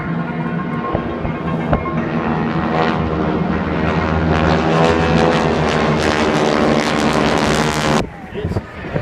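Loud, close aircraft engine roar at a naval air station air show, Oceana, swelling steadily for several seconds before cutting off abruptly near the end, with voices faintly under the noise.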